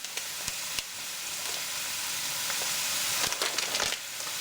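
Penne pasta cooking in boiling water on a low setting, a soft steady bubbling hiss with a few light knocks and clinks, quiet and without speech.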